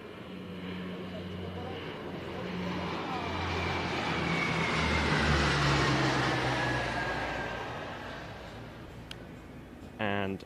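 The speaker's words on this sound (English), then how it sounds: "the C-130E Hercules of the 14th Airlift Squadron of the Polish Air Force" A Polish Air Force C-130E Hercules airlifter of the 14th Airlift Squadron flies a display, its turboprop drone swelling from distant to a loud pass and fading again, with a commentator speaking over it.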